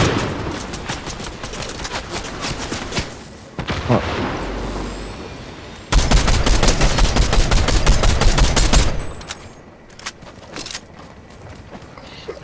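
Gunfire in a Fortnite match: rapid automatic bursts of shots crackling in dense volleys, with a louder sustained barrage near the middle, then scattered single shots, close and loud.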